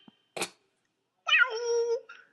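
A cat gives a short chirp, then after a pause lets out a longer, drawn-out meow, close and clear against silence.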